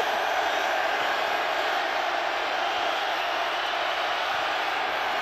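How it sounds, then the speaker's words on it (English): A football stadium crowd at an XFL game between the St. Louis BattleHawks and the Seattle Sea Dragons builds to a loud, continuous roar during a late field goal attempt, a dense wall of noise throughout. "You hear the crowd getting loud."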